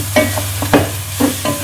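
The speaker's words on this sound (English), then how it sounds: "Now there are a couple different ways you can brown up the lamb shanks" Lamb shanks browning in a pot, a loud, close sizzle broken by several scraping, stirring bursts as the meat is moved around.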